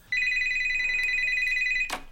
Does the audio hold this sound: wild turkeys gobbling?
no